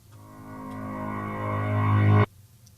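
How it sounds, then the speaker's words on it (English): Reversed low and high piano notes form a transition effect: a sustained tone swells steadily louder for about two seconds, then cuts off abruptly into near silence. "I played 2 notes on a piano. I reversed the note."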